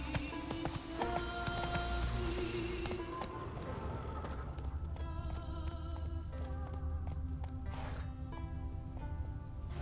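Roach the horse galloping in The Witcher 3: Wild Hunt, rapid rhythmic hoofbeats running steadily under game music and ambient sound, moderately close.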